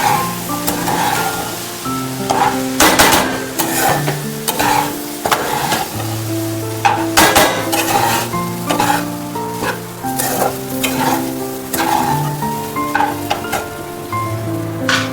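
Sabudana khichdi, tapioca pearls with crushed peanuts, is stirred in a frying pan, giving a steady sizzle with repeated scraping strokes of the spoon that continue throughout, loud and close, with no voices.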